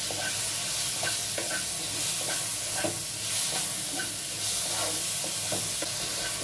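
Chopped tomato drops into a pan of frying spices and turmeric for Bengali begun tortora, raising a steady close sizzle broken by light stirring scrapes and taps.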